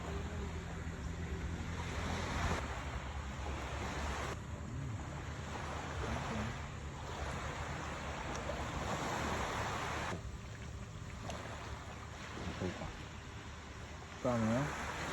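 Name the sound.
ocean waves crashing on beach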